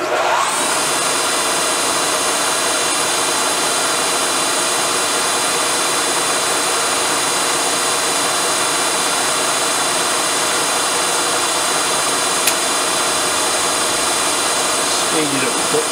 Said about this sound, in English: And we drill this hole without snapping the drill.